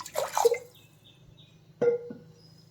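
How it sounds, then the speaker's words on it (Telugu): Water is poured over soaked roasted dal for a tangy karonda (vakkaya) dal, in two short close splashing pours separated by a quiet gap, with no talking. "పప్పు ములిగే వరకు వాటర్ వేసుకోవాలి."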